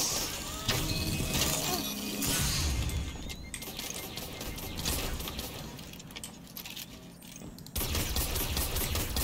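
Exotic sidearm firing in Destiny 2, shot after shot in a dense, busy stream of clicks and bursts over game effects and music, with a short drop near the middle before the firing picks up again.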